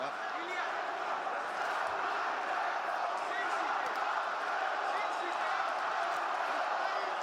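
Arena crowd at the Topuria vs Holloway UFC fight, a steady dense roar of many voices that holds loud and continuous throughout, with scattered shouts and commentators talking over it.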